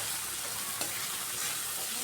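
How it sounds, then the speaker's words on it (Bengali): Chopped tomato frying with onions in a pan, a steady soft sizzle with light stirring throughout and one brief clatter near the middle, no voices. "টমেটোটা দিয়েও কিছুক্ষণ ভাজবো, এতে করে পেঁয়াজের সাথে টমেটোটাও খুব সুন্দরভাবে নরম হবে"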